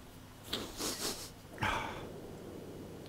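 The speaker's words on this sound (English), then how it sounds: "As I sniff into the microphone." A person sniffs close into a microphone during a World of Warcraft gaming session, two or three quick nasal inhales, the last one longer and louder, followed by soft background hiss.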